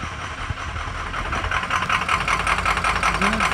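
Ford E350 6.0L diesel engine idling rough with multiple cylinder misfires, a loud continuous uneven rumble with irregular stumbling pulses heard up close.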